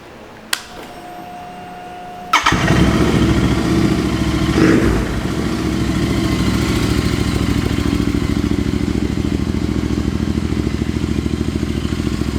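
A KTM 390 Adventure motorcycle engine cranks over, catches and fires into a loud close idle with a brief rev, then settles into a steady thrumming run with no voices.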